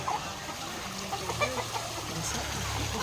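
Turkeys on a farm gobble and cluck in short calls at a moderate distance, over a constant low background hum.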